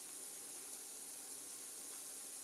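Fish sears in an oiled pan with a steady, faint sizzling hiss that holds evenly throughout, no voices over it.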